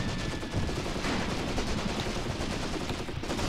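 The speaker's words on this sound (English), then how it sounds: "The amount of fire we're receiving right now just from the enemy there on the right sector is unbelievable." Incoming gunfire and artillery in the Graviteam Tactics Mius-Front war game, a dense, continuous crackle of distant rifle and machine-gun fire with muffled blasts, steady and unbroken throughout.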